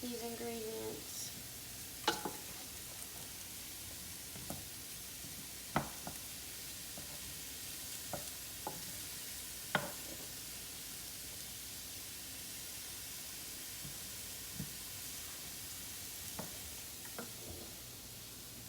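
Superfood stir fry ingredients sizzle quietly in a pan, a steady low hiss broken by a few sharp clicks and scrapes now and then.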